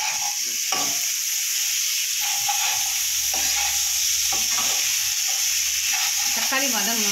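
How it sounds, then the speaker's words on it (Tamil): Onions and tomatoes sauté in a cast iron pan, giving a continuous close sizzle broken by repeated scraping stirs through the frying. No one speaks. "தக்காளி வதங்கணும்னு உங்களுக்கு காட்டுறேன்"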